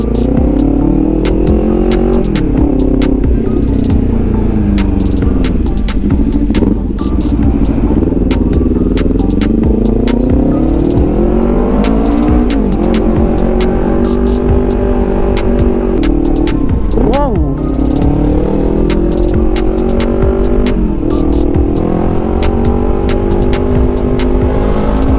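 Kawasaki Ninja 400 motorcycle with an M4 full system exhaust, loud and close, its engine note rising and falling through repeated revs and gear changes over a constant throaty rumble.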